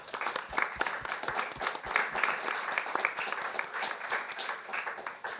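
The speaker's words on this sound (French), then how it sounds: "Je propose qu'on applaudisse tous nos invités ce soir." Applause from the audience at a café scientifique evening as the guests are thanked, steady dense clapping from a crowd of moderate size, somewhat distant, with no talk over it.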